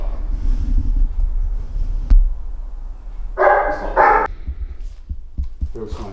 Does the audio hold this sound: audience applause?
no